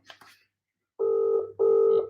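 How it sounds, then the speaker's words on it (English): Ringing tone of an outgoing phone call, two steady electronic rings in quick succession, loud and close, after a brief murmur of a voice. "Oh, it's ringing."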